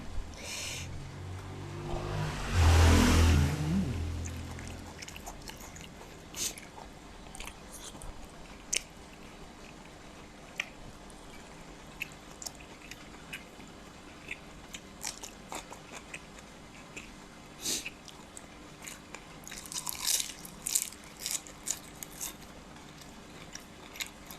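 Someone eating koi tap, a Thai-Lao salad of raw beef and liver, with a loud burst of close chewing early on, then quieter, scattered mouth and handling noises.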